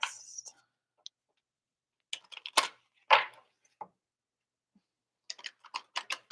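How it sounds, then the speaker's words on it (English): Tarot cards being shuffled by hand during a live reading, heard as scattered short papery riffles and taps in separate bursts, with a denser run of quick flutters at the end and quiet gaps between. "Let me shuffle my cards."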